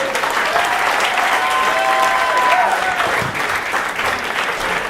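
A live audience claps loudly and continuously, a dense, close wash of hand claps filling the room with a few faint voices or whistles riding on top.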